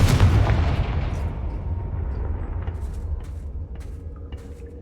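A Confringo fire spell explodes in the wizarding game Hogwarts Legacy: one loud, close boom opens, then a long rumbling decay fades slowly, with faint crackles trailing off.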